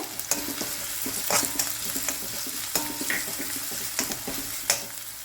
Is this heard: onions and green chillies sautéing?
yes